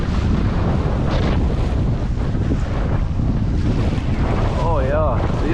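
Storm waves and strong wind batter an Old Town Sportsman Autopilot 120 kayak, with loud, constant wind roar across the microphone and water sloshing close by, plus a brief whoop of a voice near the end.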